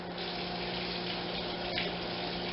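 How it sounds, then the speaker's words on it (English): Warm water runs from a kitchen tap to proof yeast for homemade bread, a steady, even hiss and gush that continues unbroken with no voices. "So we'll get a little warm water going for our yeast."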